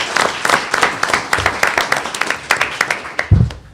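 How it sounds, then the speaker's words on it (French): Applause at a municipal council meeting in Coaticook, a small group clapping in a brisk, uneven rhythm of distinct claps, fairly close, with a louder thump near the end. "On applaudit ça chaque fois,"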